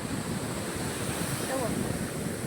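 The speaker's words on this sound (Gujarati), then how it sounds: "મોજા ફૂલે ફૂલ આવી રહ્યા છે" Sea waves roll onto the shore as a continuous, moderately loud wash of surf mixed with wind rumble, with no clear break between waves.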